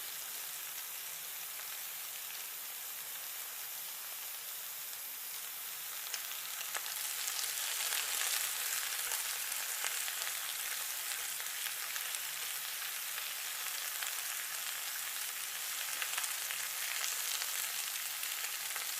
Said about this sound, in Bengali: এরপরে লাল শাকের পাকোড়াটাও ভেজে নিলাম।